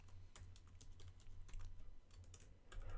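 JavaScript code being typed on a computer keyboard, a fast run of light close key clicks with brief pauses over a faint low hum, with no talk.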